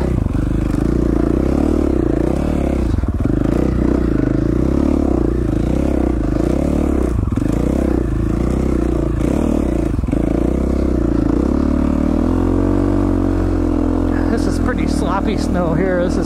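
A dirtbike rides through snow in Idaho, its engine droning loudly and continuously with rising and falling revs and scraping, clattering noise throughout, close to the rider; a voice speaks over it.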